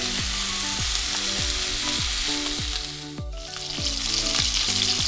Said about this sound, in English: Grilled it with salt and black pepper. So this is called pan grilling until golden brown.